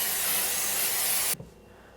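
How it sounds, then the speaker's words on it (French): Cooking oil is sprayed into a bowl for banh bao dough, a Vietnamese steamed pork bun. One loud, close, steady hiss lasts just over a second and cuts off abruptly, leaving near silence. "on va venir vaporiser de l'huile dans un bol"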